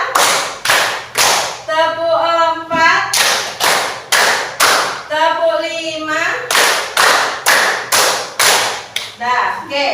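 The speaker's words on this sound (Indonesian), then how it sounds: "tepuk 1, tepuk 2, tepuk 3" Classroom of students clapping a counted rhythm pattern at the start of a lesson, sharp loud group claps in repeated sets and groupings, alternating with a teacher's voice calling out the counts between rounds.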